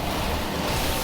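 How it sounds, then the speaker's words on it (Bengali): A jet ski racing fast across open water, heard as a continuous loud rush of spray and wind with a low engine-like rumble underneath. "জেট স্কি অনেকটাই জোরে যেতে পারে"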